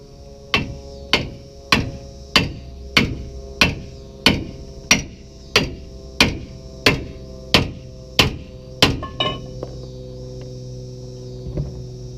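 A hammer pounds on a part of a Ford F250 rear axle during a rear seal replacement. About thirteen loud, evenly spaced metallic blows ring out close up, then taper into a few lighter taps over a steady low hum.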